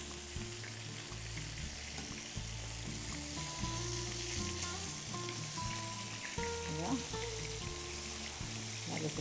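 Rice with water poured over it sizzles in a hot pan, a continuous frying crackle and hiss running throughout at a moderate level, with a low voice-like hum and faint tones mixed in underneath.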